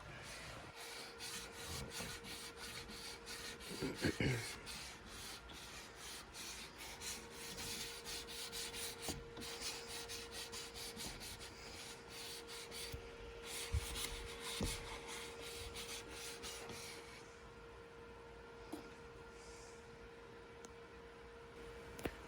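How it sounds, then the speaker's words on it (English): Scope rings on a rifle mount are lapped with steady, rhythmic back-and-forth metal rubbing strokes, quiet and close, continuing evenly for a long stretch. "I'll lap the rings and be ready to rock"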